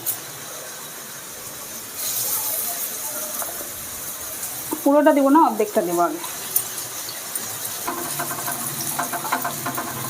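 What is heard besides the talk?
okra frying in oil in a hot wok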